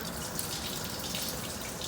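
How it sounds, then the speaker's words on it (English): Water pours steadily into the trunk of a Saturn SC2 during a leak test, a continuous splashing wash that stays even and fairly close throughout, with no talk over it. "Water pouring."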